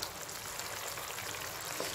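Eggplant curry (ennai kathirikkai kulambu) bubbles and sizzles gently in a pan, a faint, continuous crackle with soft popping and no voices.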